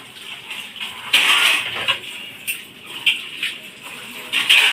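Dishes are washed by hand under a running kitchen tap, with irregular clinks and splashy bursts of water over a soft steady flow, close by and alone.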